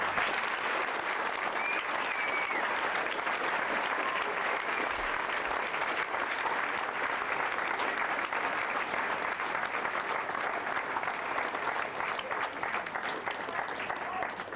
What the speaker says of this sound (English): he really deserves our applause and appreciation for what he's done